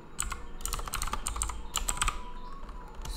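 Rapid clicking keystrokes from a computer keyboard as Python code is typed, an uneven, close and steady clatter with no talking.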